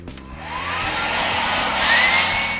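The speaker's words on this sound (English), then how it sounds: "you can take a hairdryer to it, and I just like to leave it on a cold setting" A hair dryer on its cold setting blows with a steady, loud airy roar, its pitch rising slightly as it runs continuously without any talking.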